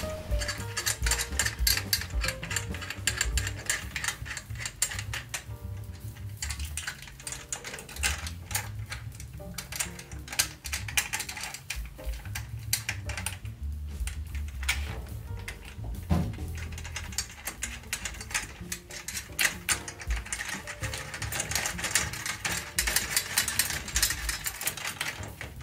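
A drum key turns the tension screws on a snare drum, producing continuous close mechanical ratcheting and clicking that runs throughout at a steady, busy level.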